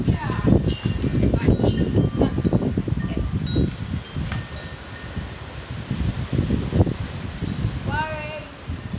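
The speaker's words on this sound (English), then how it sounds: "It is a windy day." Gusty wind blowing outdoors, buffeting the microphone in loud rumbling bursts with some rustling, while people talk intermittently and a bird chirps briefly near the end.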